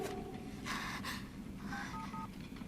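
A mobile phone plays dialing tones, a few short electronic beeps in a quick irregular series, fairly faint over background noise.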